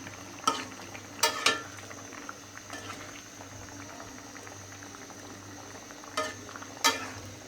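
Curry of potato, tomato and stinging catfish simmering in a pan, a faint bubbling hiss under several sharp clinks and scrapes of a utensil against the pot.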